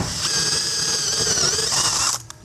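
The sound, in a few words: drilling a 1/2 inch hole in a deck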